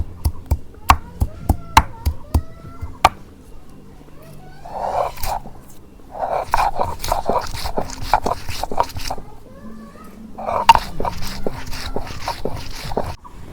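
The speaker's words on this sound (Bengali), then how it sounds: "এখন রসুন বাইডা নেব। প্রথমে আমি ছেঁচে নিই" Garlic being crushed for a Ramadan sehri broiler chicken curry, heard as a run of sharp, hard pounding knocks in the first few seconds, then scraping and grinding bursts close by, with faint talk in the background.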